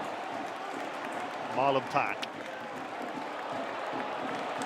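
A stadium crowd applauds during Portsmouth v Luton Town, a broad, steady murmur of clapping and noise from the stands, with a commentator's voice briefly heard over it.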